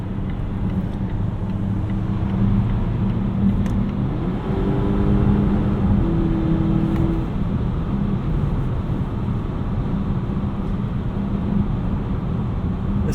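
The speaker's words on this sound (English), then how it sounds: "You catch just a faint supercharger whine at low speeds" Inside the cabin of a 2018 Volvo XC60 T6 AWD R-Design, a steady low engine and road hum carries a faint supercharger whine that rises in pitch briefly while the car pulls at low speed.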